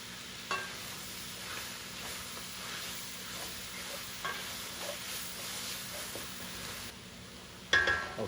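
Shrimp and enoki mushrooms stir-fry in a cast iron pan, a steady soft sizzle with occasional scraping stirs and a few light clinks, heard alone at moderate distance.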